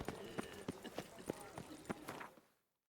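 Hooves of a horse gallop in The Witcher 3: Wild Hunt Blood and Wine, a quick regular clip-clop rhythm fairly close, with a voice briefly speaking over it before it cuts to silence.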